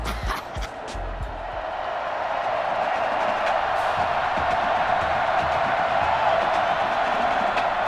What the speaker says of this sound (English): the crowd is loud and on its feet as Ricky Sutherland gets things started.